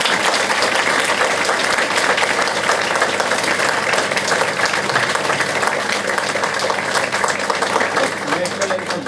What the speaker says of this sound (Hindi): कम से कम हाथ जोर से ताली आपने दिए तो बजाओ